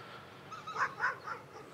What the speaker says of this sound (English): and angry dogs